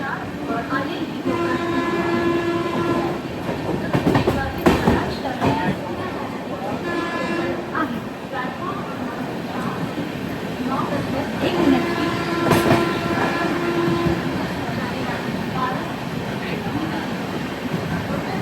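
A Duranto Express train rolls through Thane station without stopping, with a rumbling, clattering drone, a horn sounding twice, and faint voices in the background.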